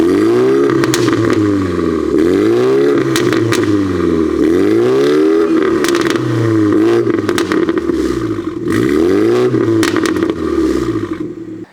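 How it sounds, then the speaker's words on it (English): BMW X4 xDrive30i G02 with B48 engine and Veleno exhaust revs repeatedly, loud and close, in rising and falling sweeps that climb and drop in pitch several times with crackles between pulls. "This B48 X4 also comes with a Veleno exhaust."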